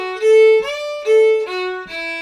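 A fiddle plays a Celtic ending phrase, clear bowed notes with a quick ornamental roll that leads into a sustained final note, close, loud and solo with no talking.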